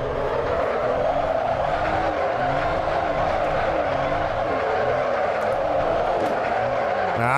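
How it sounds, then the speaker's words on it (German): A LaFerrari drifts in the Assetto Corsa racing game, its engine droning loud and steady while the tires squeal continuously in long wavering sweeps. "da können wir die geile Kurve nochmal ein bisschen geiler driften vielleicht"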